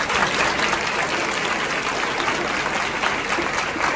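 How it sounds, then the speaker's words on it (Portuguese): Steady applause from a church congregation during a Catholic homily, a dense even wash of clapping that holds at a constant level throughout with no talk over it. "você aplaudiu"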